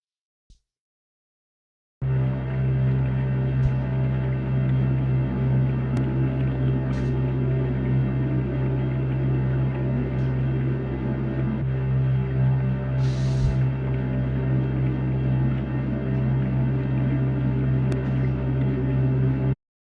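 A steady, dense electronic drone from the Pigments synthesizer with a hissing, slowly shifting modulated noise layer, holding at constant loudness after a brief silence at the start.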